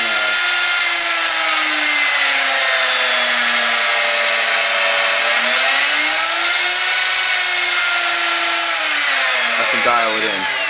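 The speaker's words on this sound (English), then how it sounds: "So instead of having to run the router at full speed" A CNC router spindle running steadily, a loud, continuous high whine whose pitch dips and rises smoothly as the speed changes, with a short clatter at the very end.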